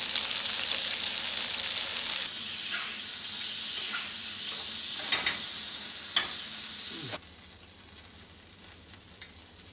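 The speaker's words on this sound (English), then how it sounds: "That butter melt." Butter melting and sizzling in a hot pan, with a steady, close frying hiss that eases to a quieter level partway through, punctuated by a few light clicks and scrapes.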